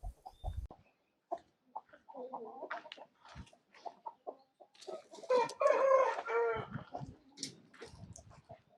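Country chickens and a large rooster on a native-poultry farm give sporadic clucks and short calls, close and fairly quiet, with a louder burst of cackling midway and gaps of near silence.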